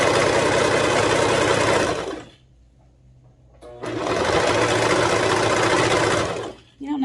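A sewing machine stitches fabric for skinny pants in two loud, steady runs of fast mechanical whirring and needle chatter, separated by a short quiet pause, close by.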